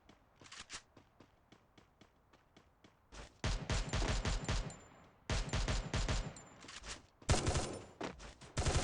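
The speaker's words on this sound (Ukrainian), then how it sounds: "Двоє якісь стріляються." Gunfire between players in the mobile battle royale game Free Fire MAX: quick bursts of shots, first sparse and faint, then dense heavy volleys with pauses between them.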